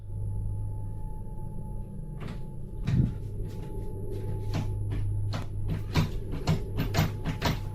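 A door handle rattles and clicks in a string of sharp metallic taps on a door in a ghost video, quiet against a steady low hum.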